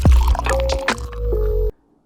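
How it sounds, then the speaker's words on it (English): A beer can cracks open with a sharp burst right up close, and beer then pours with a fizzing, gurgling flow that stops abruptly. "the cracking of the beer and the pouring of the beer"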